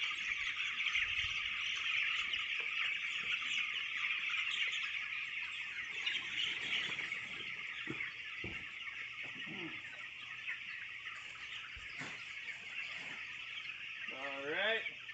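A crowd of about 2,000 chicks peeping and clucking continuously while being moved to pasture, with a bright chorus throughout, occasional thumps and handling noises, and a person speaking briefly.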